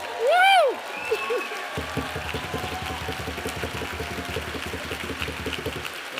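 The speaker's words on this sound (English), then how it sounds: "can you guys just get up and give him a round of applause?" Commencement crowd clapping and cheering after a whoop: dense, steady applause running for several seconds, with scattered shouts over it.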